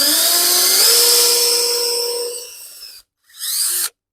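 A small handheld power drill bores a hole in cabinet material, whining loudly and rising slightly in pitch, then winds down. A second short burst of drilling follows a brief pause.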